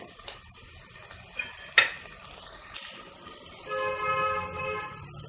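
Tomatoes are added to a hot pan and fry while a spoon stirs them, with several scraping clinks over a soft sizzle; a brief tonal whine enters near the end.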